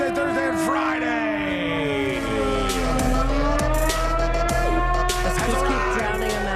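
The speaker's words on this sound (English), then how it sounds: "how long of a siren did you download?" A wailing siren with rising and falling pitch sweeps continuously beneath loud overlapping voices, with a steady low hum underneath.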